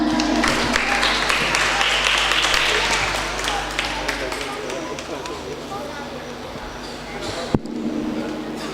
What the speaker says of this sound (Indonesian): Aprilia, tepuk tangan.